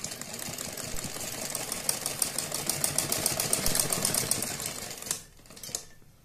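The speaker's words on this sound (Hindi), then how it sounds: "बाद हम इसके ऊपर बिल्कुल किनारे किनारे पर इस तरह से सिलाई लगाएंगे" A sewing machine runs a steady stitching line right along the edge of baby-dress fabric, its fast even mechanical chatter continuing for about five seconds before stopping, followed by a brief quieter tap.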